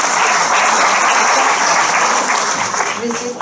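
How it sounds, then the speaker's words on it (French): Audience applause at a French public-transport programme presentation, a dense steady burst of clapping lasting a few seconds and tapering slightly at the end. "Merci d'applaudir."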